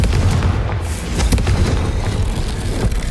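A Confringo blasting spell explodes in Hogwarts Legacy, with a loud, booming detonation that rolls on for several seconds in a dense, continuous roar.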